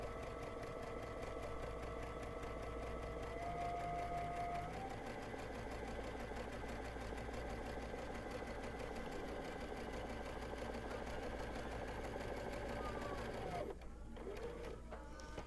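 Sewing machine running continuously to stitch a reinforced double seam inside the previous stitch line on a giant Christmas stocking, a steady close whirring drone for about fourteen seconds before it stops.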